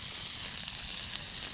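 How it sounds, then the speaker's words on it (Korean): Pork belly sizzles on a hot natural stone, a steady close hiss and crackle with no talking. "드디어 자연석과 삼겹살의 극적인 만남이 이루어지고"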